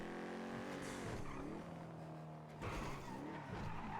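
Speeding car skidding in GTA V NoPixel roleplay, engine revving with pitch sweeps and squealing tires, loud and close, with repeated surges as the car slides and accelerates.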